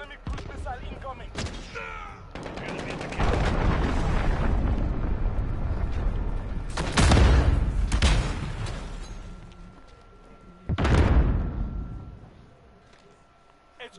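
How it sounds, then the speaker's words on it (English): Enemy cruise missile explosions in a PS4 shooter, several loud booming blasts with rumbling tails, separated by quieter stretches of combat noise. "Enemy cruise missile incoming."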